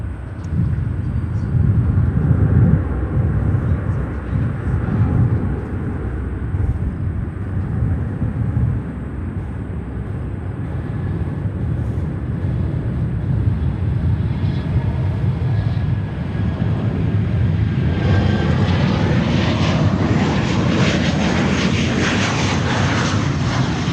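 Steady jet engine roar of airplanes at Chicago O'Hare airport, loud and continuous, swelling toward the end as a plane passes close, with a faint train rumbling in the background.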